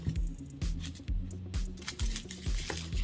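A knife chops onion and garlic steadily on a cutting board in quick, regular strokes, with crisp taps close by and no talking.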